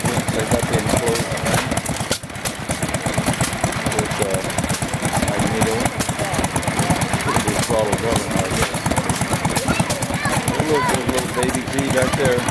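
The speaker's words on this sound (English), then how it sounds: "It's a pretty little engine right here." An antique single-cylinder stationary gas engine from 1942 chugs rapidly and steadily close by at a gas engine show, a loud rhythmic putter with people talking over it.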